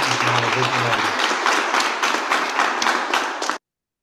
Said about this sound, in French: tout le monde pour les applaudissements bien mérités